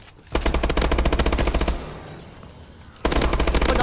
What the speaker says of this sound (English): where are you shooting at, buddy?